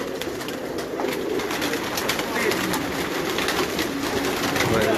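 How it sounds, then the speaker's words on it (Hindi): Rampuri pigeons coo steadily in a loft in Karachi, soft repeated throaty calls layered over a busy background of fluttering and rustling, with a voice speaking at moments amid the birds. "ये देखें जी रामपुरी कबूतर आ गया"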